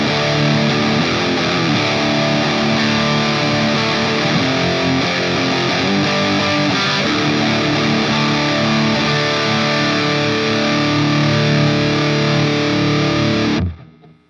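Distorted electric guitar from a Fender FMT Telecaster's bridge humbucker played through a stock Orange amp head, a thick sustained overdriven riff running about thirteen seconds before stopping abruptly.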